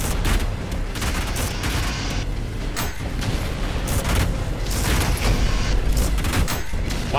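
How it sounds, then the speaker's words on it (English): Loud, dense gunfire and booming blasts from the fast shooter ULTRAKILL, Layer 7, a steady barrage of rapid shots and impacts that keeps going without pause from start to finish. "the whole game lags when I shoot it"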